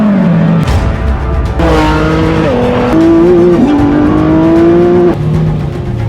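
A matte black Lamborghini Revuelto sports car revs loudly and up close, its engine note rising and dipping in sustained pulls with faint tyre noise.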